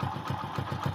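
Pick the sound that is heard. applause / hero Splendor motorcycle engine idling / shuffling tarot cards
hero Splendor motorcycle engine idling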